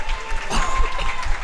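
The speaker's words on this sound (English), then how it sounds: "Huge relief, huge cheer, huge excitement here at the Dome" At the Women's Jigsaw Puzzle Championship 2025 individual semifinal in a dome venue, a crowd bursts into loud, dense applause mixed with cheering that fills the space throughout the short burst.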